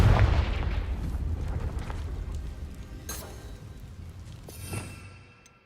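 A Confringo blasting curse explodes in the video game Hogwarts Legacy, opening with a heavy low boom that fades into rumble, followed by two sharper cracks later on.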